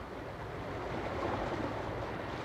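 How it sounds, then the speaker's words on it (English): Steady broadband wash of a fishing vessel's bow smashing through open sea water off rugged marshland, continuous rushing and churning without breaks, moderately loud with no voices. "The serenity of sea and sky is broken only by the smashing noise of the ship's bow against the water"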